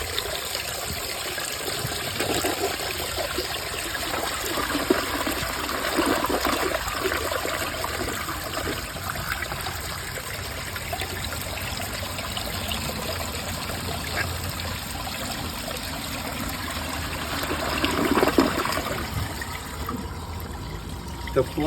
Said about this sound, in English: and the tank is overfilling again.